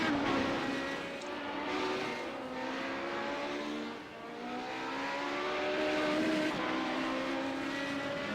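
A race car passes on a circuit during a 15-lap race, its engine a loud, sustained drone with shifting pitch that rises and falls as it goes by, with a busy background.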